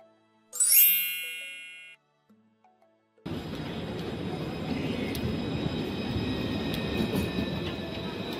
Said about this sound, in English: Tram trains operate both on urban tramway networks and conventional railway tracks